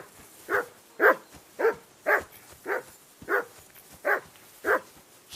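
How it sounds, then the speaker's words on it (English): A dog barks repeatedly in Kingdom Come Deliverance 2, nine evenly spaced, fairly loud barks about half a second apart, standing alone against a quiet background. "Jesus, Henry, that barking's driving me nuts."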